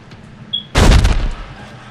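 A single gunshot from a weapon in the video game Dead Space 3 cracks out as a sudden, loud, close blast with a short booming tail. A faint high blip comes just before it, and no one talks.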